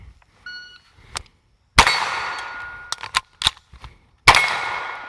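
A Colt 6450 9mm submachine gun firing a few separate sharp reports among metallic clanks and clicks of handling, the shots loud and close with short ringing decays and quiet gaps between them.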